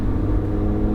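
A Lamborghini Huracan accelerates at full throttle on a race track, its engine a loud, steady, sustained roar with a deep rumble, heard close for a single second with no speech.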